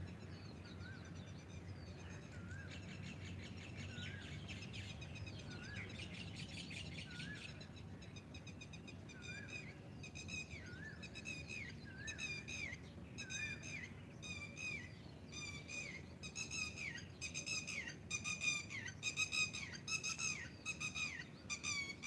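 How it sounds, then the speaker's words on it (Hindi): Birds chirp and whistle outdoors in the morning, with repeated bright calls that grow busier and closer over a soft steady background, and no talking. "पक्षियों की देर के लिए आवाज़ को सुने, प्रयास करें सुनने की।"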